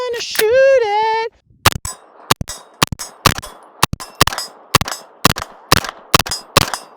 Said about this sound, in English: They give me a gun and I'm gonna shoot it.